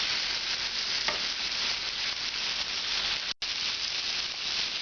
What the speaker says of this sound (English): If you overcrowd the pan, the meat steams instead of browning.